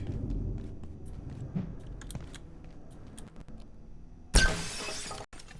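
A porcelain chest shatters with a sudden crash of breaking ceramic in the video game Abiotic Factor, following quiet keyboard tapping and clicks, with a brief scattering of fragments afterward.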